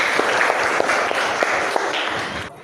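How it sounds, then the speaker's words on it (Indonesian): Students applaud together in a classroom, a busy patter of many hands with a few sharper individual claps popping out, fading near the end before cutting off. "tepuk tangan buat kita semua"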